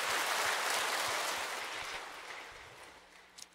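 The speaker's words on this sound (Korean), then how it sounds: "하나님께 영광의 박수 올리겠습니다." Congregation applause during a Sunday church service, a broad wash of clapping that starts fairly loud and gradually fades out over a few seconds, with no talk over it.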